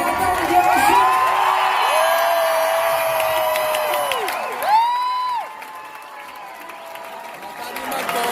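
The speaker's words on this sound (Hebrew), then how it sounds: "תעשו המון המון כפיים" Audience at a live concert claps and cheers steadily with scattered whoops, while a sustained sung or held tone rides above the crowd noise before it thins out.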